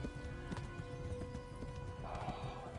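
Horse hooves clip-clop steadily at a run in the video game Kingdom Come: Deliverance, with a horse neighing partway through, over a busy background.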